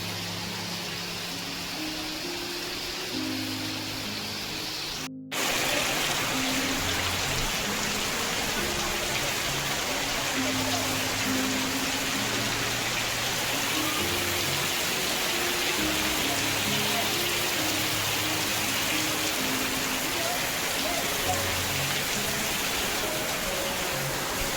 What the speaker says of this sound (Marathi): तर आता जोरदार पाऊस पडायला सुरुवात झाली